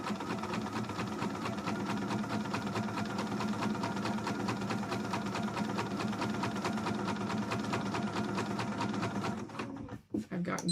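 A sewing machine runs steadily as it stitches rows on a Link cosplay piece from Twilight Princess, a close continuous whir that holds for about nine seconds and then cuts off abruptly.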